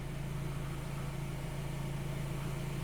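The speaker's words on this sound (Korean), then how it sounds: "시동을 걸어 놓은 상태인데 엔진 상태 너무 좋아요 소리 들어보시죠" A 2013 Hyundai Sonata The Brilliant LPI car engine idles with a steady, low hum continuously at close range, smooth and even throughout with no talking.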